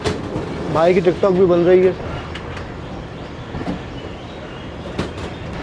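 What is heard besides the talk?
Attock Safari train departing Golra Sharif junction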